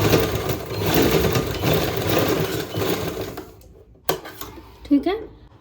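A sewing machine stitches a blouse at its hook-eye strip, running steadily for about three seconds before stopping, followed by a few sharp clicks and handling noises.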